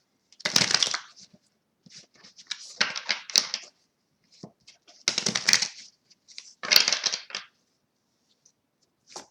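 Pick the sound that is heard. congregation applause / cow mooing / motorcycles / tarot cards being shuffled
tarot cards being shuffled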